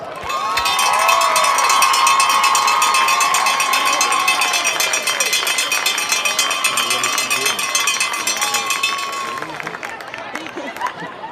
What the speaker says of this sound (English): would you give all the candidates a round of applause?